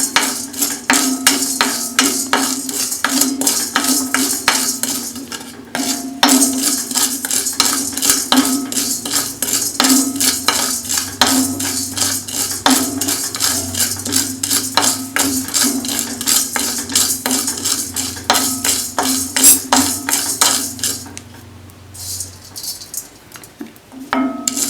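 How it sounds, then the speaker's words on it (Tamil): Lentils dry-roast in a pan on a low flame while being made into rasam powder, with rapid, rhythmic clinking and scraping of a utensil against the pan that briefly pauses and grows quieter near the end. "சிம்மில் வச்சே வறுக்கணும், ரொம்ப அனல் இருக்கக்கூடாது"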